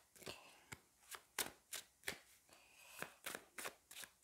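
Tarot cards are shuffled by hand in a quiet room, a string of crisp riffling swishes in a steady, slightly uneven rhythm, soft and close, with no voice.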